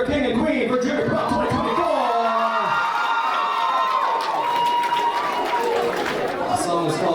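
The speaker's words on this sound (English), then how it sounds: "And one more round of applause for your king and queen for Junior Prom" Junior prom crowd in a school dance venue applauding and cheering for the newly crowned king and queen, a dense, loud, sustained wash of clapping and shouting voices with a person speaking over it.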